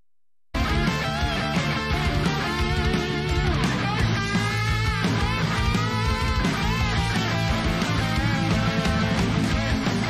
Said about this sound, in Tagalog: Dalawa pala yung tunog ng gitara.